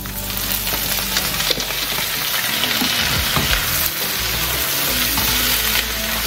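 Vegetables hit a hot pan for an Asian-inspired home meal, a loud continuous sizzle and crackle of frying with scraping stirring strokes running throughout, no voices.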